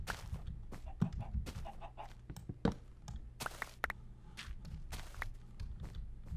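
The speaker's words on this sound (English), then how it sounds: "I thought that chicken was about to attack me." A chicken in the video game Minecraft clucks in short, scattered bursts among footstep-like taps and thuds, close and moderately loud, with no voices.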